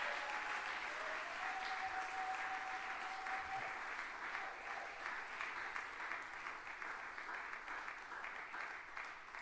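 A church congregation applauds steadily throughout, a dense wash of clapping that stays even and fairly distant, with a faint held tone briefly audible early on.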